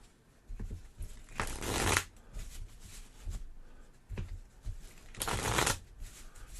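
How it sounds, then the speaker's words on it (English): A deck of board game cards is riffle-shuffled close up, with repeated crisp bursts of fluttering cards separated by quieter handling and tapping, the pattern recurring several times. "Try not to pay too much attention as I shuffle here"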